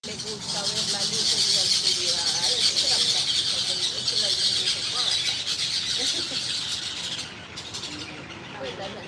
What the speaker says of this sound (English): it's a bunch of birds in the tree. Sound like they was fighting, right?